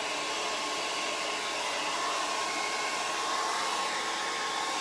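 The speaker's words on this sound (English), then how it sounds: "The thing with the hairdryer is you can't hold it too close, because if you hold it too close, the paint will start to kind of crackle" A handheld hair dryer blows on fresh buffalo-check paint on a six-foot welcome porch sign, giving a steady, close, unbroken whirring rush that holds for the whole stretch with no talking.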